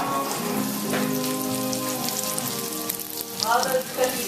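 Eggplant slices fry in a pan with a loud, constant close sizzle and a faint tonal hum underneath, growing a little busier toward the end.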